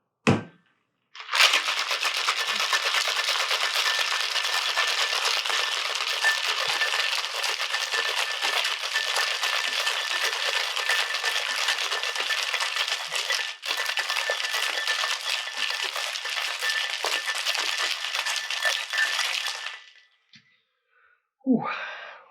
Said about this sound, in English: Put a nice thing of ice in there, and we're going to shake it again. Nice vigorous shake.